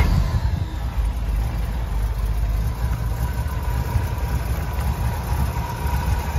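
A 1965 Buick Riviera coupé's engine idles steadily after starting, a smooth low rumble close by, with no one talking over it.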